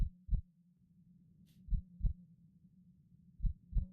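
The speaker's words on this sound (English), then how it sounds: "I hear a heartbeat. Just the thumping." Thumping heartbeat effect in the game Dawn Chorus, deep paired lub-dub beats repeating about every one and a half seconds over a low steady hum, close and clear with no talk.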